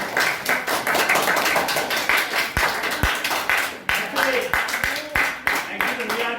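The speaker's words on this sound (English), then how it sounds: "let's give a big round of applause for today's teacher" A classroom audience claps for a student teacher, steady scattered hand claps filling the room for several seconds while a voice talks over them.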